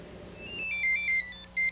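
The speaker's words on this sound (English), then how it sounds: "It's the phone call from her daughter" A telephone rings in a TV news report from Albuquerque, New Mexico, as a short burst of bright electronic ringtone chirps in quick succession, fairly loud after a brief low hum.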